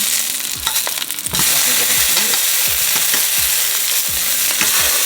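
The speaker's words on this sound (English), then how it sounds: "we're gonna add a little oil to the bottom of this. And we're gonna add our tomatoes" Tomatoes fry in a little oil in a pan for enchiladas, with a loud, dense, continuous sizzle that jumps up as they hit the oil, and repeated utensil scrapes and stirring knocks on top.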